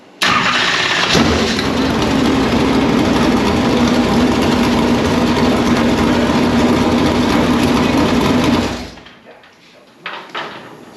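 An engine fitted in a Conqueror chassis fires up in a shop and runs loudly and steadily for about nine seconds before cutting off abruptly, with voices briefly audible afterward.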